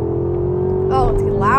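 A Porsche engine in Sport Plus mode drones from inside the cabin, a steady loud hum that rises in pitch, with a voice speaking over it near the end.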